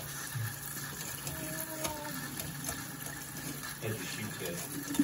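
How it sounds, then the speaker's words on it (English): Tap water runs steadily into a sink while grapes are washed, a faint continuous splashing and trickle with some background noise and occasional voices. "I'm gonna wash the grapes I got today from the store"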